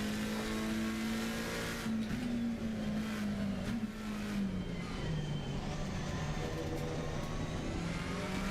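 Race car engines in the sim racing game Assetto Corsa Competizione drone steadily and loudly throughout, one dominant engine tone dipping and rising with shifts while other cars buzz nearby.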